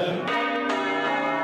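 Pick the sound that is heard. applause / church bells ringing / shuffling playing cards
church bells ringing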